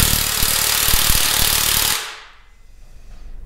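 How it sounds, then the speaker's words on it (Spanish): A pneumatic impact wrench hammers loudly on bolts while stripping down a VW 1.8L engine, a dense rattling burst of under two seconds that stops abruptly and leaves a fading quiet. "Si están utilizando una pistola de impacto como yo, tengan cuidado"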